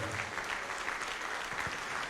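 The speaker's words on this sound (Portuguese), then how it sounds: "Vamos aplaudir a Jesus por cada pessoa que está vindo" A congregation applauds during a live-broadcast Christian sermon on a radio and TV program; dense, steady clapping fills the short stretch at an even level from start to finish.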